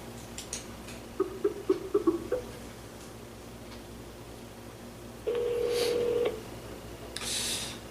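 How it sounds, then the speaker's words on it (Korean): A telephone dials a call with a quick burst of keypad beeps, then a single steady tone after a pause, faint against a low room hum. "분산에 제가 잠깐 전화를 좀 먼저 드려야 됩니다."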